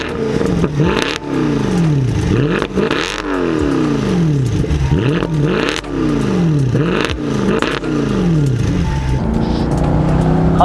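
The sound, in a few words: Mercedes C63 AMG 6.2 litre V8 engine revving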